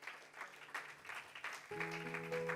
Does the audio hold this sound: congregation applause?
yes